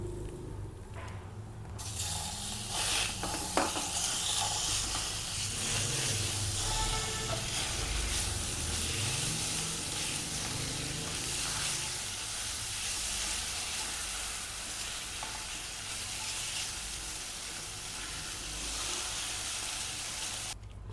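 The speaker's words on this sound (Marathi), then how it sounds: "खवा अगदी थोडा फ्राय करून घ्यायचा आहे, जास्त करायचं नाही, कलर बदलेपर्यंत" Khoa, milk solids, sizzling steadily in a hot pan for a homemade chandrakala sweet, a continuous even hiss and crackle with a brief stir early on, moderately loud and close, no voices.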